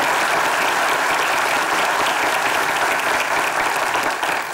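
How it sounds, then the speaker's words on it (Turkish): Audience applause for a young performer after a stage show, a dense, even wash of clapping that holds steady and thins slightly at the very end. "Alkışlar bir İlkin'e gelsin."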